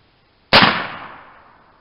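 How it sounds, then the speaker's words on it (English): A single loud, sharp report from a .50 caliber PCP air rifle on a 3000 PSI fill, the crack decaying over about a second with no voices. "We're gonna take a test shot here."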